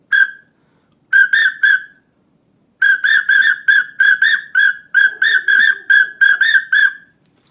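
A pintail duck call is blown in short bursts of high, clear whistling, a lone chirp followed by quick clusters of two to four rapid notes, loud and close with silent gaps between groups.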